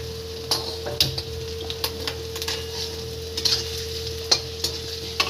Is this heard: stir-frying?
yes